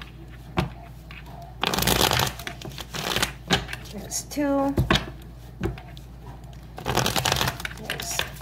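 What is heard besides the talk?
shuffling tarot cards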